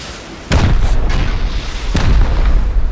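Two heavy rocket explosions in Rust land about a second and a half apart, each a loud, close boom with a rumbling tail that fades into a low wash of background noise.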